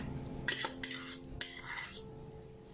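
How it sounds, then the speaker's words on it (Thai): A utensil scrapes and clinks in a bowl as shredded crab sticks are tossed with mayonnaise, making a few quick metallic strokes close by and then quiet. "มายองเนสนะคะ นำมาคลุกกับปูอัดที่เราฉีกเมื่อสักครู่นะคะ"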